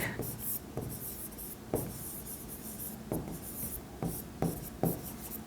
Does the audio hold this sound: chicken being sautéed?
no